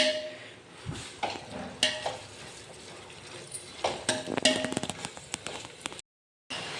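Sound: garlic, mustard, cumin, curry leaves, green chili frying in oil

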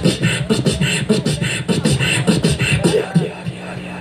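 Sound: beatbox imitation of a snare drum

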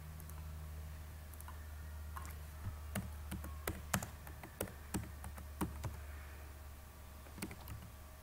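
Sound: typing a message on a computer keyboard

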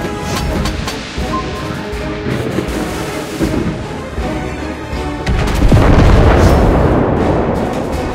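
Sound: torpedo explosions in World of Warships Blitz video game

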